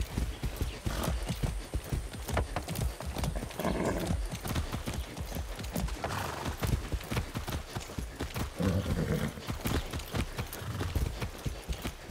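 Steady clip-clop of horse hooves trotting in the video game Far Cry 6, loud and close, with a brief whinny partway through and no talking.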